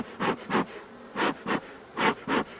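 Honeybees buzzing around an opened nucleus hive during a colony inspection, the hum swelling in about six short close passes as bees fly past, with quieter buzzing in between.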